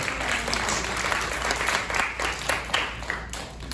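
Applause from the audience for volunteers at a Christmas Carol puppet show, a steady, moderately loud patter of many hands clapping that tapers slightly toward the end.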